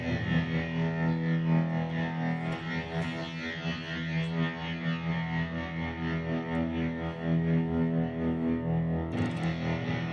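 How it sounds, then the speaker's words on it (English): A Diamond delay pedal on an electric guitar gives a sustained, distorted tone with repeating echoes that smear together, steady and loud for about ten seconds, with a brief sharp burst near the end. "Nope, it's another delay."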